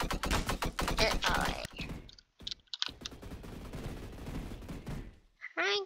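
Rapid automatic gunfire from a shooter video game rattles in dense bursts at the start and resumes after a short pause. Sharp clicks punctuate the firing near the end.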